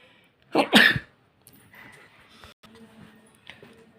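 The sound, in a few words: sneeze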